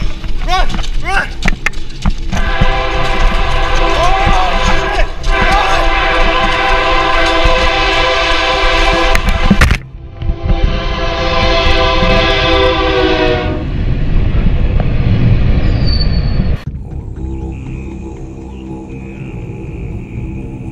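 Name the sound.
train passing by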